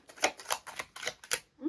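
A deck of tarot cards is shuffled by hand in a quiet room, giving a series of crisp, close riffling snaps in a quick irregular rhythm.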